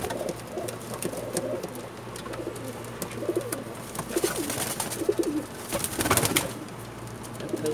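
Pakistani breeder pigeons coo in soft, repeated murmurs over a steady low hum, with occasional rustling and scattered bird calls nearby.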